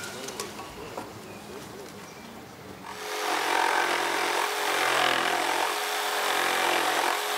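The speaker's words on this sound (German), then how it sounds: "Die Holzbauer sägen die Aussparungen für die Äste aus." Carpenters cut recesses for tree branches in the timber of a children's tree playhouse; after about three quiet seconds a power saw starts, loud and sustained, biting steadily through the wood.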